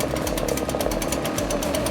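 An Echo PB-580T backpack leaf blower has just started after a pull, its small two-stroke engine running loud and close in a steady buzzing drone for the whole moment.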